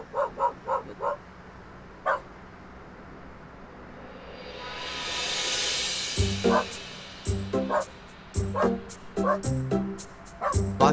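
A dog barks at night in repeated sharp, nearby bursts, some in quick clusters, with a swelling whooshing noise in the middle of the barking.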